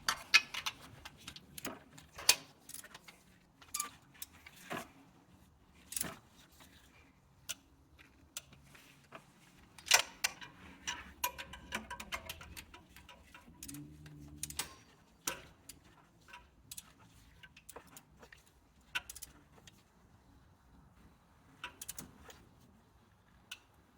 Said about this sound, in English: This is a clicker style. You might have a different type of torque wrench. Either way, you just bring them to torque.